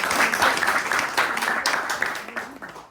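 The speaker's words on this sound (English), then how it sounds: "can we clap for Peter, please?" Audience applause for Peter at an Anywaa book launch, a dense wash of clapping hands sustained for about three seconds with some murmuring voices mixed in, fading at the very end.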